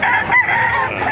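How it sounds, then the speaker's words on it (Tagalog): Roosters crow and chickens cluck at a poultry market in Bocaue, Bulacan, with one close crow standing out over the steady background of birds. "Maraming manok dito sa Bukawi."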